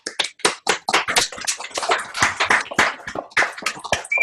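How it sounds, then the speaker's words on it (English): Applause for speakers at an online speech contest, heard as a patchy run of sharp, uneven claps and taps from a few people on separate microphones, close and dry, continuing steadily for several seconds. "give a good old-fashioned round of applause for all of our speakers today"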